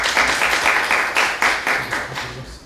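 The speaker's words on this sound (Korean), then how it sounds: "큰 박수로 환영해 주시기" A lecture hall audience claps to welcome a technology-forecasting lecturer, a short burst of brisk, fairly loud applause with audible individual claps, tapering slightly toward the end.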